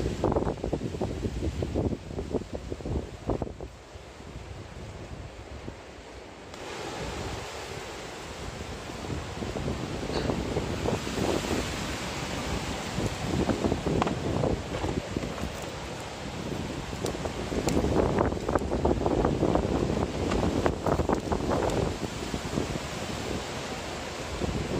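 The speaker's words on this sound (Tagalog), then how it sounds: "Sobrang lakas po ng hangin." Strong wind roars steadily against the microphone beside a river in the rain, a dense, rushing noise with gusty surges throughout and no voices.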